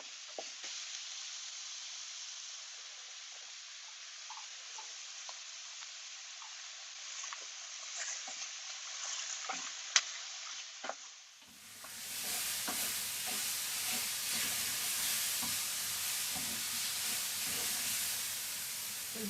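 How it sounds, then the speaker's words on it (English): Tomatoes frying in a pan for vegetarian paella, cooking down to golden brown: a soft sizzle with light stirring clicks that swells abruptly into a loud, dense, continuous frying hiss. "We're gonna keep cooking the tomatoes until they cook."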